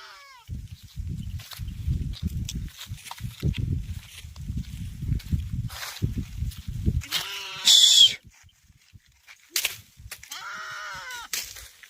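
Sheep on a farm bleating several times, with strong wavering calls near the middle and end of the stretch, over steady low rumbling and scattered shuffling noises close by.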